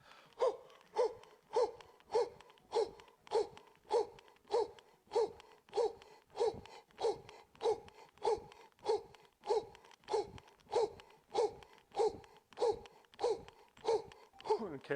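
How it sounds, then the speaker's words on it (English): Forceful rhythmic power breathing during a Cellercise workout: a long, steady series of sharp, evenly spaced breaths, about one and a half per second, close and clear with no talk over them. "that was a lot of power breathing."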